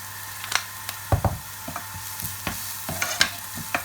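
Salted onions frying in a pan for lasagne, an up-close sizzle punctuated by irregular utensil scrapes and clicks as they are stirred.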